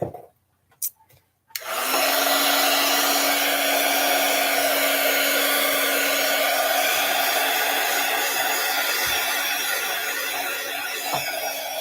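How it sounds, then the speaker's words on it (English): A hair dryer dries paint dots on a handmade Christmas card. It clicks on after a couple of quiet seconds and then blows loudly and steadily up close for about ten seconds, alone with no talking. "I'm going to dry a little bit."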